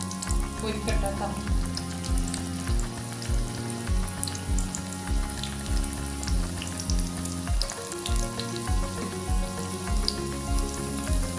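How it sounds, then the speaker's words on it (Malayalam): Sweet potato snack pieces deep frying in hot oil, a steady dense sizzle and crackle running continuously at close range, with no talking over it. "അപ്പോൾ അത് എണ്ണയിൽ പൊരിക്കട്ടെ കേട്ടോ."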